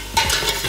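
Ingredients sear in a dry, oil-free pan while being flipped often, giving a short burst of close scraping and crackle.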